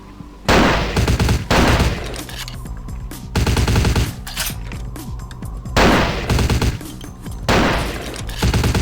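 Loud bursts of automatic gunfire in the video game Vampire the Masquerade Bloodlines, several rapid volleys with short pauses between, close and harsh, with no talk.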